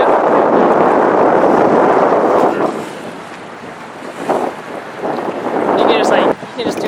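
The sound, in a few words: strong wind blowing into the microphone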